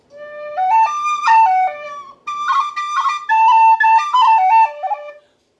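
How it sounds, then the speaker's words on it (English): A bright Copeland soprano D tin whistle plays a lively melody of quick, ornamented notes, pausing briefly midway before continuing up close with no other sounds. "It's a good whistle"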